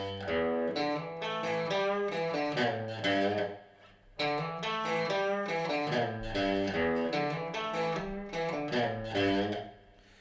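Overdriven electric guitar plays the lead lick from the Eagles' Life in the Fast Lane, a busy, continuous run of bright distorted notes with a brief gap near the middle, loud and up close with no talking.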